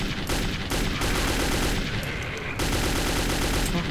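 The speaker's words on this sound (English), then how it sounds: "God, I shot it like 50 times." Automatic gunfire rings out in Metro 2033, a dense, sustained rattle of rapid shots that runs almost the whole time at steady loudness, with only brief gaps between bursts.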